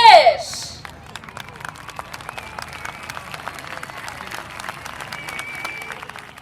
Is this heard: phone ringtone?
no